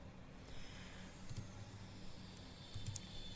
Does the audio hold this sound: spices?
no